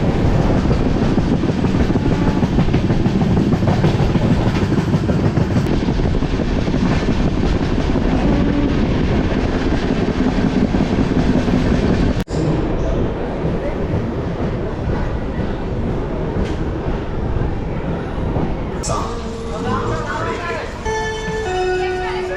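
Loud, continuous rumble of a train rolling on rails with rhythmic clatter, nearby and steady throughout, heard from the Secunderabad–Raipur superfast express passing freight wagons loaded with rails.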